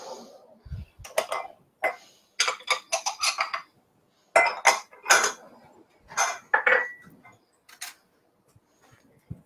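A utensil clinks and scrapes against a bowl in quick bursts while mayonnaise is mixed for spicy mayo, with short pauses between the close, bright strokes and no talk.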